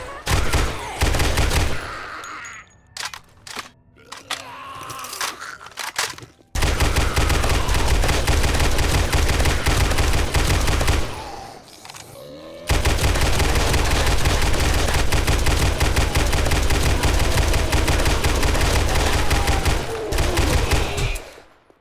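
A weapon firing normal ammo in the game 7 Days to Die rattles out long, loud bursts of rapid automatic gunfire, broken by a few short pauses and scattered single shots.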